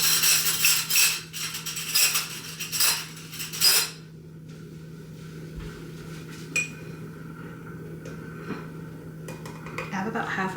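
A fork clinks and scrapes in a small bowl, mixing flour into a quarter cup of apple liquid for a homemade apple pie filling, with rapid close metallic stirring for about four seconds and then quieter handling and occasional taps.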